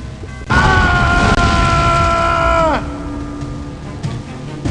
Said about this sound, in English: we lit a pool of oil on fire and incinerated the guard